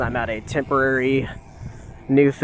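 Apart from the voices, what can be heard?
None of the usual background noises is heard.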